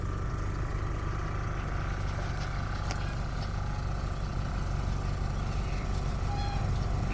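A car's engine idles steadily at low volume while the vehicle slowly reverses at a car show, giving a continuous low hum with no voices over it.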